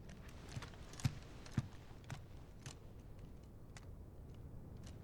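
Horse hooves clip-clop softly in Final Fantasy XVI, a few faint, irregular thuds at a distance over a quiet game ambience.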